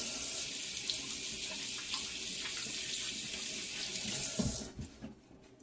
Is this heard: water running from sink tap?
yes